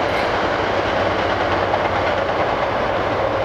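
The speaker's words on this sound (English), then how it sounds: "Oh, I can see the train through the trees." A train rolls past behind trees near an abandoned motorcycle workshop, a steady broadband rumble of wheels on rails, continuous and moderately loud, with no voices.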